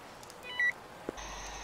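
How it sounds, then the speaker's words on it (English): Electronic phone dialing tones in a video game: a short steady beep, a brief click, then a longer sustained tone, faint and alone without talk. "Let's call Kim."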